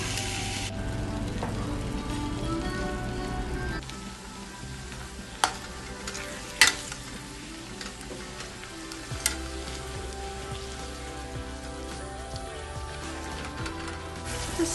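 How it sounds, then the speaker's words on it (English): Ground beef with turmeric sautéing in a pan for Anglo-Indian beef cutlets, a steady soft sizzle with occasional sharp clinks of a spoon on the pan. "It's now time to add the ground beef. Next goes in the turmeric."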